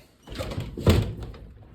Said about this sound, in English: let me shut the door and lock it